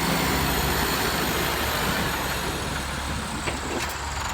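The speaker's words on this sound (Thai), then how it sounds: "น่าจะเป็นเครื่องยนต์ไดเรกครับ" A tractor's direct-injection diesel engine runs loud and steady close by, a heavy continuous rumble with a faint clank near the end.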